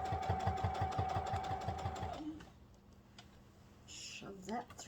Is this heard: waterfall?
no